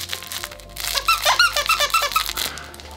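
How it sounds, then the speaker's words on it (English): A football-shaped medium rubber dog toy squeaks in a quick series of loud, close, high-pitched squeals over about two seconds, with no talk. "Next up we got the Retriever Medium Dog Toy. This is like a football thing. Ooh, it squeaks."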